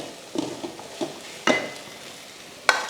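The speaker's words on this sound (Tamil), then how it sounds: "அவ்வளோதான், இதில் சாதம் போட்டு கிளறிக்கலாம்." Rice being stirred into a carrot and egg mixture in a pan, with a few soft scraping and clinking strokes and a brief sizzle, close and fairly quiet with no talking.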